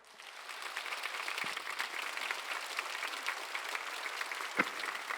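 Congregation applause fills a church service, a dense steady wash of many hands clapping throughout, with a couple of sharper thumps standing out.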